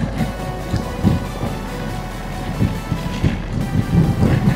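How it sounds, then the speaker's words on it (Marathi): Heavy rain pours down steadily with a dense, constant hiss, with low rumbling and wind buffeting against the microphone. "अरे भाई टपाटप पडतोय पाऊस"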